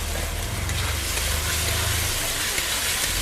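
Fried potatoes go into a spice masala that has been cooked down in oil in a pan for ghugni, raising a steady, close broadband sizzle that holds evenly throughout.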